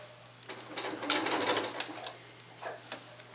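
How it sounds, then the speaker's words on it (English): Home sewing machine stitching curved fabric quilt pieces, a faint uneven run of soft mechanical clicks and rattling bursts over a low steady hum, close by and quiet. "I'm going to sew all the way to the pin and pull it out."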